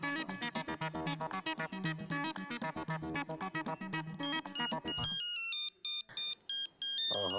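Telephone ringtone, a bright melodic electronic ring repeating steadily and loudly for about five seconds, then breaking into shorter separated ring bursts with brief gaps; no talk over it.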